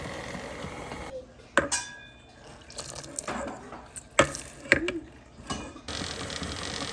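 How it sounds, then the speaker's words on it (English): Lemon halves squeezed through a hand lemon presser into a Christmas baking mixture, with a few sharp metallic clicks and clinks and wet drips over quiet kitchen background. "So I'm gonna use my lemon presser so I won't get any seeds into my mix."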